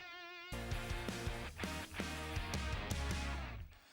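A tremolo lead guitar line with reverb pulses over a full, dense band mix in a song's verse, loud and busy throughout after a brief quieter intro.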